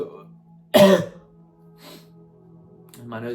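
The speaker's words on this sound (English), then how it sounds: "I've got a little tiny cough." A single sharp cough rings out close by, followed by quiet pauses and brief soft vocal sounds from the same person.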